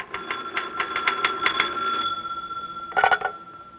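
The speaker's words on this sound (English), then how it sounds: "Special Agent Taylor is writing a report when his phone rings" An old bell telephone ringing as a sound effect in a 1952 radio drama set in an FBI field office, a trilling electric ring in rapid pulses, a pause, then a shorter second ring, close and clear, with no talking.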